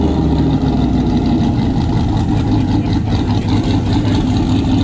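Turbocharged Corvette with a swapped-in truck engine running on a dyno, a loud, steady low rumble that fills the whole stretch with no pauses or talking.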